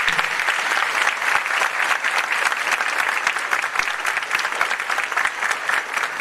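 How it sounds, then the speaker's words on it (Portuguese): Sustained, dense applause from a large crowd at a lecture, steady and enthusiastic throughout without a break. "aos quais eu peço uma calorosa salva de palmas."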